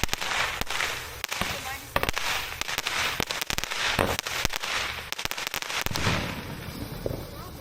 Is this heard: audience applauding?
no